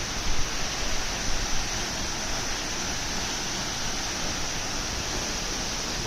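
Steady broadband rush of a waterfall roughly 35 meters high, heard close and constant with no talk, a dense hiss filling the whole span.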